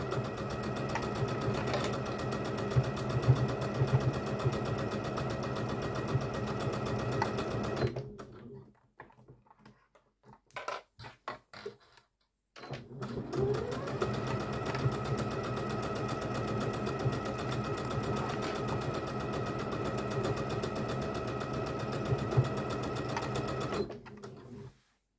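A sewing machine runs at a moderate, steady speed while hemming the bottom of a Capucine blouse, its busy motor-and-needle chatter filling the room. It stops briefly for a few quiet clicks and handling sounds, then resumes the continuous stitching.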